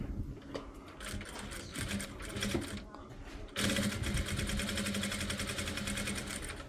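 A sewing machine stitches repeatedly in one spot to back-tack a seam while sewing a double-welt pocket. The sound is a close, steady, fast mechanical whir, with a voice talking over the first half.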